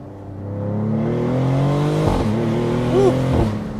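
A Maserati GranCabrio Trofeo accelerates hard from the cabin, its engine note climbing steadily through the revs with a brief dip at a quick gear change before pulling on, loud and close.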